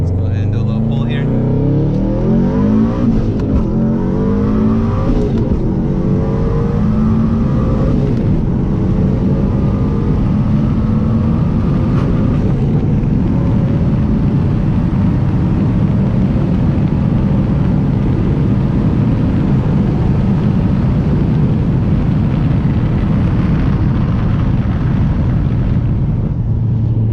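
A 2005 Subaru STI fitted with a COBB 20G turbo and 850cc injectors pulls hard through the gears, a continuous engine roar with rising revs and cabin drone heard from inside the car, with wind noise throughout.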